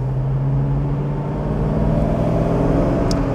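A 1959 BMW 503 Cabriolet Serie II with a 140 PS engine drones steadily as it accelerates. A low, continuous engine rumble stays close and fairly loud throughout, with no voices.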